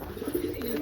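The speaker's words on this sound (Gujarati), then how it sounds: "તમે જુઓ કબૂતર." Pigeons cooing softly in a low, murmuring rumble, faint against a hissy background in a brief snippet.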